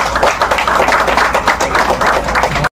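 Dense, steady applause from an audience at a felicitation ceremony held by a social foundation, loud and continuous for nearly three seconds before cutting off abruptly.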